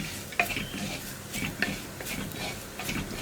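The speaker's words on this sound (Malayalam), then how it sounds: "നമ്മുടെ ചില്ലി ഫ്ലേക്സ് ഒക്കെ നന്നായിട്ട് കുക്കായി ആ ഒരു റോ ടേസ്റ്റ് ഒക്കെ മാറി വരുന്നത് വരെ ഇളക്കി കൊടുക്കുക." A spoon stirs chicken masala with chili flakes in a frying pan, giving soft scraping and gentle sizzling with a few light metallic clinks, fairly faint and close.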